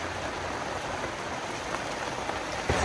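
Steady rain falls outdoors on a Thai farm, an even, dense hiss of drops with no voices, constant and fairly close.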